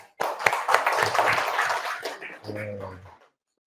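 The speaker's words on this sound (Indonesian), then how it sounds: "Ya, terima kasih pada dua orang ini, kita beri tepuk tangan dulu." Applause for two students in a vocational high school class, a dense burst of clapping that starts abruptly and tapers off after a few seconds, with a voice speaking briefly near the end.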